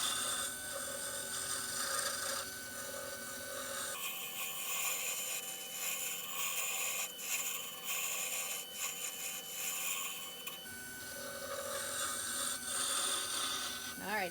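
A wooden pen blank being turned and shaped with a tool, giving steady scraping and rasping that goes back and forth against a continuous machine hum, fairly close with no talk.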